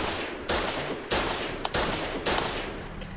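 Heavy gunfire aimed at a tank in the war game Foxhole, with loud, close bursts recurring roughly every half second to second over a constant battle din.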